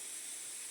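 A pressure cooker on a gas stove, cooking rice with dal, lets out a brief, steady high-pitched hiss of escaping steam, faint and unbroken, with no voices.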